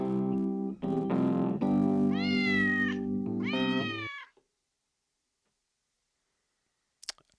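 Several cats meow in sequence, drawn-out rising and falling cries over a steady hum, loud and close, then the sound cuts to near silence with a brief click near the end.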